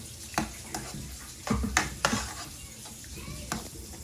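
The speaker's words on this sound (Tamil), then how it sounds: "இதையும் நல்ல வடிவாக இந்த மசாலாக்களோட எல்லாத்தோட சேர்த்து நல்ல வடிவாக அப்படி வதக்கி எடுப்போம்." Chickpeas sauté with spices in a pan as a spoon stirs them, producing quiet scraping taps and a faint sizzle, close by and intermittent without speech.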